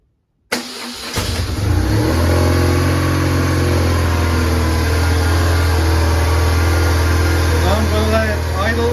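A BMW R1100 RT motorcycle engine starts up after a moment of silence, then settles into a steady, loud, close idle with a slight rev near the end.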